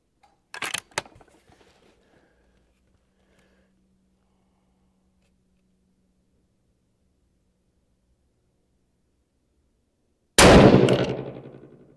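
A 6mm Creedmoor rifle fired at a 200-yard target: a sharp click and rattle of handling near the start, a long quiet pause, then one loud close gunshot blast that decays over about a second and a half.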